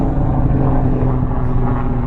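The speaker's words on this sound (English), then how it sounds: "we have a helicopter going over" A helicopter passes over a cemetery, its steady, loud engine and rotor drone rumbling throughout with no talking.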